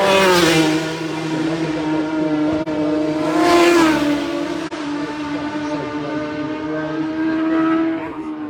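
A Superstock racing motorcycle at the Isle of Man TT roars loudly, its high revving engine tone rising and falling as it passes close by, with the pitch sweeping through a couple of surges.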